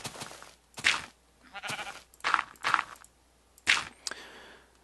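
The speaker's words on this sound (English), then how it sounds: "Oh, you stupid sheep." Sheep in the video game Minecraft bleat several times in short separate bursts, about six calls spaced unevenly over a few seconds, fairly close and clear with no talking.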